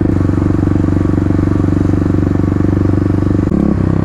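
A 2018 Kawasaki KLX351 motorcycle with a full Barker exhaust runs loud and steady, its throbbing exhaust note holding at a constant level, then briefly dropping and shifting pitch near the end as it changes gear.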